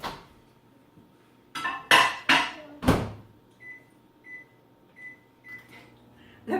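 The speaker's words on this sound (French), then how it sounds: "Alors, on va mettre ça au micro-ondes," A microwave oven in a home kitchen is loaded with a plate of food. A few loud clunks and knocks come first as the door shuts, then a row of short, evenly spaced beeps sounds as it is set, close and clear.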